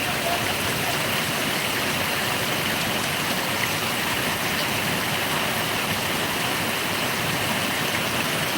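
Heavy monsoon rain pouring over farmland with brinjal crops, a dense, unbroken roar holding steady from start to finish.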